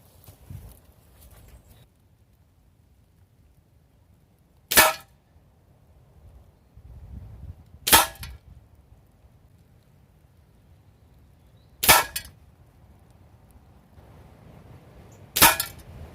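GAMO Whisper X Swarm air rifle firing JSB Exact Jumbo Diablo pellets, four sharp close shots spaced a few seconds apart against a quiet background with faint shuffling between them.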